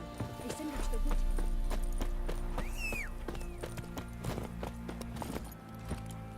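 Roach the horse gallops in The Witcher 3 with a quick rhythmic clip-clop of hooves. Game music plays underneath, a short whinny rises midway, and voices speak over it.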